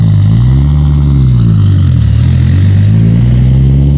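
A 1,000-horsepower Toyota Supra engine idles loud and close, with a deep rumbling drone whose pitch dips briefly midway before rising again, alone with no talking.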